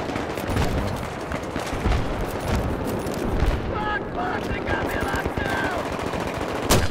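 Rapid automatic gunfire from the video game Battlefield 3 rattles continuously for about seven seconds, dense loud bursts with sharp single shots and explosions mixed in, while a voice talks faintly underneath.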